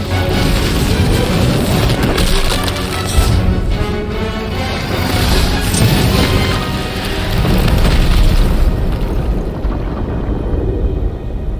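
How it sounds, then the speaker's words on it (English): Plasma guns firing and exploding in Marvel's Guardians of the Galaxy game combat, a dense run of loud booming blasts and rumbling impacts that goes on without pause, with no talk over it. "Those are the plasma guns."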